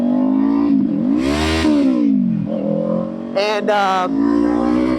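A car engine idles loudly up close and revs twice, its pitch swelling and falling with each throttle blip, while someone talks over it.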